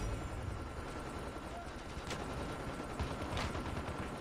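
Dense, continuous automatic gunfire from an HBRA3 rifle in Call of Duty Mobile gameplay, loud and sustained with a few sharper cracks over the bursts.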